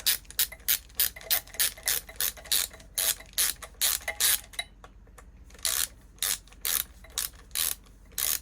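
A screw is put back into a Husqvarna 395 XP chainsaw with a hand ratchet, giving rapid, regular clicking bursts up close with brief pauses between strokes.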